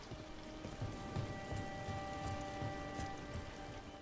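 Rain falls steadily in the video game Dragon Age: The Veilguard, a soft continuous patter with faint droplet ticks under a quiet hum of game ambience.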